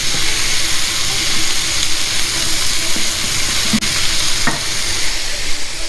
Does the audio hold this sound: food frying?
yes